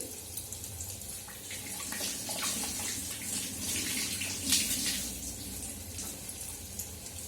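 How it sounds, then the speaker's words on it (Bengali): Hands washed under a running tap, a steady close hiss of flowing water with splashing variations, moderately loud, no voices. "হাত ধুয়ে নিই"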